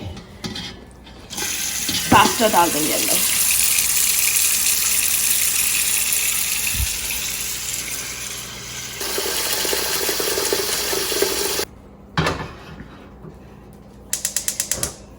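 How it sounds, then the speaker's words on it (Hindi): Tap water gushes steadily into a cooking pot being filled to boil spaghetti, a continuous loud rush lasting several seconds with some clunks of the pot at the start and end and brief talking. "तो पानी पहले बॉईल करना है, हम लोग इसको फिल करके"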